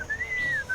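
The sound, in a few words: whistling sound in video game Sam & Max Beyond Time and Space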